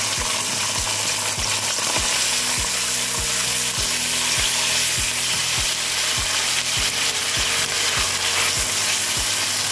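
Onion paste, ginger-garlic paste and garam masala fry and sizzle in a pan for a chicken korma, a steady loud hiss broken by sharp regular scrapes and clicks of a stirring spoon against the pan.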